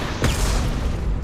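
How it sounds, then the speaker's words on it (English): A single heavy booming impact shot goes off in the sci-fi shooter Mass Effect 2. It hits loud and close with a short rumbling tail, with no talk over it. "Firing an impact shot."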